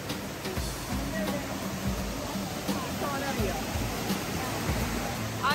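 Fresh, clear stream water flows in a continuous broad rush near the microphone, with a few dull low bumps mixed into the steady wash.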